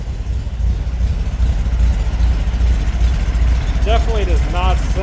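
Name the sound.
1962 VW Beetle 1835 cc engine with throaty exhaust idling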